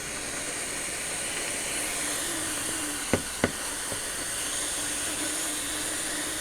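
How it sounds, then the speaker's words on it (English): A handheld steamer hisses steadily and evenly as it steams a fabric checkbook cover, the continuous close-up rush broken by a couple of sharp clicks midway. "So you're just going to take some steam to it."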